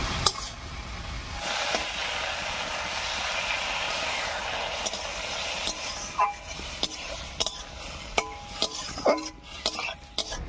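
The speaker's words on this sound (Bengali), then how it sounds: "এবারে সামান্য একটু জল দেবে।" Okra and spices stirred in a pan after a splash of water, a steady broadband frying hiss throughout with scattered spoon clicks and scrapes against the pan toward the end.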